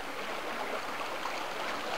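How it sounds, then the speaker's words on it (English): A river flows steadily along a hiking trail to Lake Tali Karng, a constant broadband rush of moving water heard fairly close and unbroken, with no voices over it. "bloody beautiful river here"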